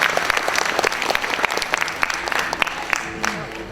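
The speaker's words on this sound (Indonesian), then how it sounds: "Tepuk tangannya buat KBRI yang sudah hadir di sini" Dense, continuous clapping from a large audience at a cultural gathering in Cairo, welcoming Indonesian embassy guests; steady applause throughout with some voices mixed in.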